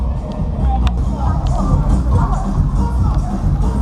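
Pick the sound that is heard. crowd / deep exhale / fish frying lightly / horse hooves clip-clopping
crowd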